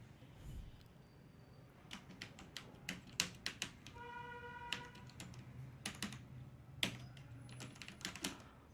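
An email address is typed on a computer keyboard into an online CTET 2022 application form, with a close, irregular patter of keystrokes and a brief tonal beep partway through.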